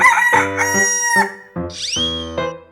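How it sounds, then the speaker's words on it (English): A cartoon chicken in a 3D animal video game lets out a short clucking call and a rising crow-like squawk over a steady layer of tonal game music, loud and close. "Chicken."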